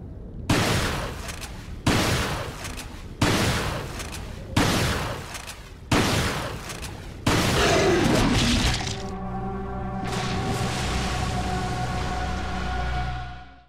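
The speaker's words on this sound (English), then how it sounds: "So shooting the lake enough times would cause a giant creature to spring from the lake and swallow Leon whole." Gunshots fired at the lake in Resident Evil 4, a loud, evenly spaced series of six blasts with ringing decay, followed by a sustained rumbling, droning surge that dies away at the end.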